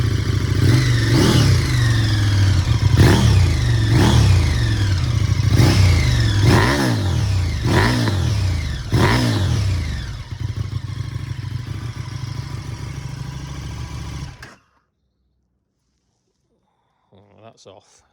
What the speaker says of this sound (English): So that's the standard exhaust. I can see there's a little bit of backfiring.